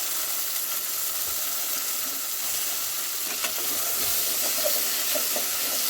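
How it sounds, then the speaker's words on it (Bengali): Eggplant and taro pieces sizzle and fry steadily in hot oil in a pan, a loud continuous crackling hiss with faint stirring. "এবার কেটে রাখা বেগুন আর কচু আলু একসঙ্গে ধুয়ে রেখেছি, তো দিয়ে দেবো তেলের মধ্যে।"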